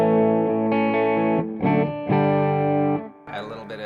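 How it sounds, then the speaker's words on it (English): PRS SE CHLEO electric guitar with distortion on its outer full humbucker pickups, ringing sustained chords close up, several strummed and held then cut off, with a final short stab. "Add a little bit of distortion"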